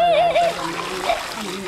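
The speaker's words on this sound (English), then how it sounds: "Just add boiling water." Boiling water poured onto starchy sago paste on the island of Seram in Maluku, a brief close splashing pour lasting under two seconds, with faint tonal sounds riding over it.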